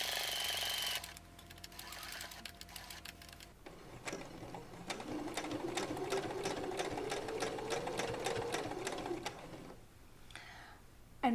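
A sewing machine stitches a quilted jewelry roll-up bag, a steady rapid mechanical chatter running for several seconds after a quieter start, then stopping, with no talking.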